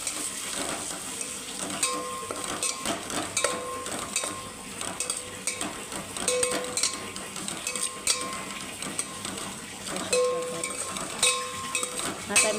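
Dry bitter gourd curry with crushed peanuts being stirred in a pan, a steady scraping and clinking of a spoon with faint sizzling throughout, moderately close and without talk.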